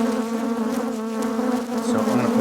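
Dense, steady drone of a mass of honey bees swarming over an open hive during a frame inspection, a continuous close hum with shifting overtones and occasional louder passes of individual bees near the listener.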